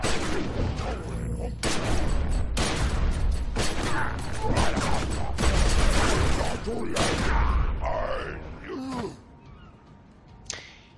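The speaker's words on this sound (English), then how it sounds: "Opening fire. That is firing the weapons at me." Weapons fire at the player in The Secret World video game, heard as a dense run of loud, rapid gunfire bursts over a constant noisy bed, thinning out into scattered quieter shots near the end.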